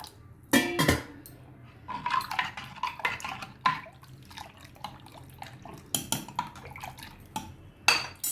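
Water is poured into a pot of Telangana-style pappu charu lentil soup, giving irregular splashes and drips mixed with clinks of a vessel and utensil, fairly close, with no speech.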